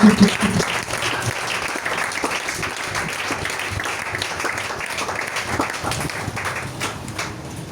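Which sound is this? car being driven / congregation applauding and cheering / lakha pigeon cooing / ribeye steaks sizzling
congregation applauding and cheering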